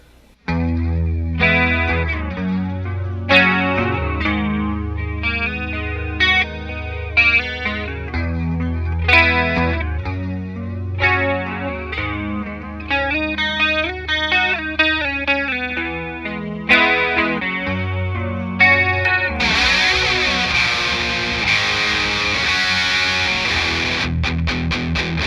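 Electric guitar with chorus and distortion effects plays the chorus of a song, with strummed chords and melodic runs that continue for about twenty-five seconds and grow brighter and denser toward the end.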